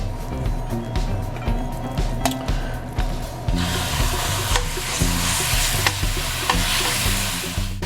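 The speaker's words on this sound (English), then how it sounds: "So we're going to start off by browning the meat, really kind of start to season the pan" Ground turkey browning in canola oil in a pan, sizzling steadily up close while a utensil scrapes and stirs in a repeated rhythm, the sizzle growing brighter midway.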